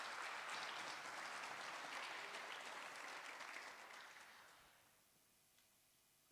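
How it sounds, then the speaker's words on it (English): Meeting audience at a savanna science network gathering applauding the speakers, sustained clapping from a moderate crowd that fades out after about five seconds into near silence. "So just a big hand of applause for all the speakers."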